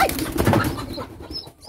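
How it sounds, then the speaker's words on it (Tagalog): Thin, high chick peeps sound faintly from a farm in the Philippine countryside, a few short calls near the end over low background rustle. "Ay, may sisiw nga. May sisiw."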